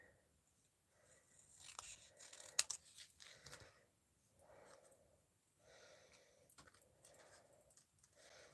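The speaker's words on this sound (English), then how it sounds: "We'll cut it in half this way." Scissors cutting handmade wedding card stock in half, faint crisp snips and rustling in several short bursts separated by pauses, quiet and close.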